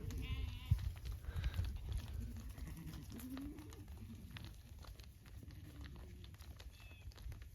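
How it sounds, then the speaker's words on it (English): Sheep bleating on a farm where the flock grazes as a winter cleanup crew, several faint calls scattered over a quiet background with a few birds, no talking. "You can tell the sheep are not doing too bad."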